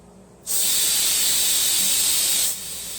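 Laser cleaning a Japanese pagoda, with WD-40 burning off the surface: a loud, steady broadband hiss starts abruptly and holds for about two seconds, then cuts down to a quieter background hiss.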